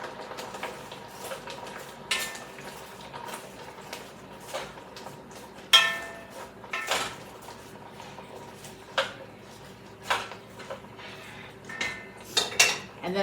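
A spoon stirring chicken meatball and cabbage soup in a pot, with scattered close metallic clinks and scrapes at an irregular pace against a quiet background.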